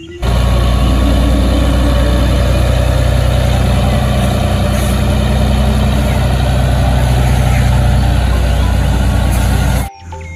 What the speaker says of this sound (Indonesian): di sini ada mobil truk pertambangan